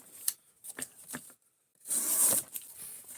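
A knife edge is drawn in quick rubbing strokes along a strop loaded with compound, close and alone, with a short pause midway before a longer, louder pass.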